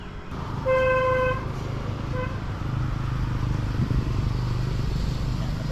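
Continuous highway traffic rumble beside the road in a rural province, with a car horn honking twice, one long toot and a brief second one, as vehicles keep passing.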